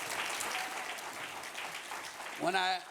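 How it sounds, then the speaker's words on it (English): Audience clapping at an annual banquet, a dense round of applause filling the room for a few seconds beneath a speaking voice, ending with a brief tonal voice near the close. "And to give him another round of applause."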